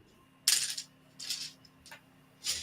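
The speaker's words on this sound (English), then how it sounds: "Feel like I hear a lot of dice over there" Dice clattering onto a tabletop during a tabletop role-playing game session, in three separate short rattling bursts with quiet gaps between them, heard close with no talk.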